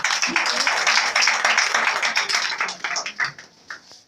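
A church congregation claps and applauds during a worship service, a burst of dense, close hand clapping that thins out and fades toward the end.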